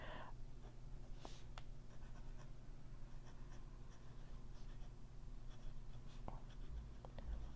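A fountain pen scratching across paper in short strokes and taps, faint and close, with intermittent scribbles over a low background hum.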